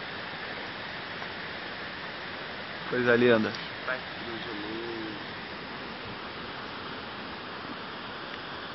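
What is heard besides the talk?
waterfall at Cachoeira Condidã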